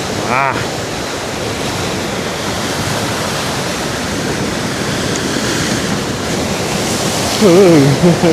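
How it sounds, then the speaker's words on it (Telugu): Loud, continuous surf crashing and churning against rocks on the coast between Gokarna and Kumta, a dense roar throughout with a brief voice near the end. "ఈ రాళ్ళు ఉండేసరికి బాగా కొట్టుకుంటాయి కదా వాటర్"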